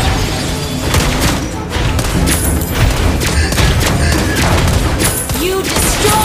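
A turret is destroyed in the Mobile Legends mobile battle game, heard in a dense, loud stretch of booming impacts and rapid skill and attack effects that run continuously amid game voice callouts.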